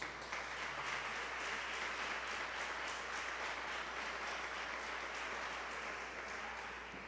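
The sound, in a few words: congregation applauding Jesus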